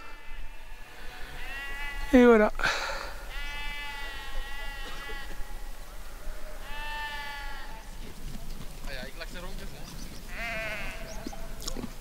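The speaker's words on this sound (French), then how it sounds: "Ah bah il y a des moutons là, juste là." Several sheep bleat at intervals, fairly close, while a person talks quietly over outdoor background noise on a mountain hiking trail in the Écrins.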